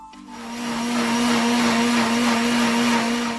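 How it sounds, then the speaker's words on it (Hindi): A blender grinds ginger juice with a few mint leaves for lemon sharbat, a steady, loud whirring motor hum that runs without a break from start to finish. "ये हमने पुदीने की चंद पत्तियां डालकर ग्राइंड कर लिया इसको भी"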